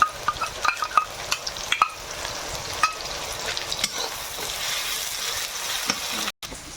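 Onion and ginger-garlic paste frying in a pan, a steady close sizzle with occasional sharp clinks of a spoon against the pan, no voices.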